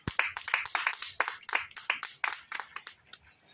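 Congregation at a church service clapping together in a quick, fairly regular rhythm, a dozen or so sharp claps per second at moderate distance, fading slightly at the end.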